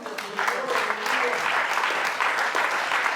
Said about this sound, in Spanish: Dele fuerte aplauso al Señor.